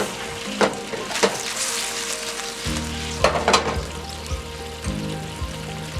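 A sauce sautés in a pan with fried soy chunks, giving a steady close sizzle with a few sharper clinks of stirring over a low hum.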